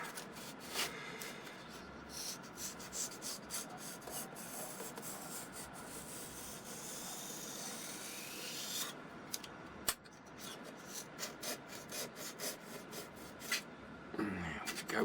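A very sharp craft knife drawn along a ruler while scratch-building an RC slope soarer airplane, with faint scraping and rasping strokes, rustling handling noises and a person talking at times.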